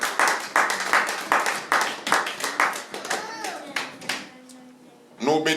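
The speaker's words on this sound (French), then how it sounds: "Applaudissez pour la lecture de la parole du Seigneur." A church congregation claps loudly in a steady, lively rhythm after a scripture reading, with the applause fading near the end and a voice starting to speak.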